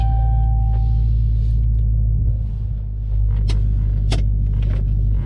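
A Dodge Charger Hellcat's deep, steady engine rumble idles up close with a loud low-end throb, briefly dipping and swelling, with faint clicks and ticks above it.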